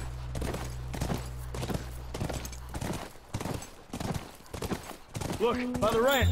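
A horse's hooves clip-clop in a steady rhythm through The Last of Us, a run of regular, fairly close beats under a droning tone, with someone talking over them near the end.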